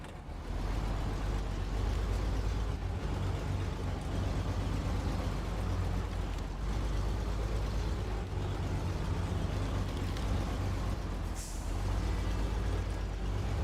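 Heavy truck engine in the game Snowrunner rumbles steadily while reversing, a loud continuous low drone with a brief hiss partway through, no talk.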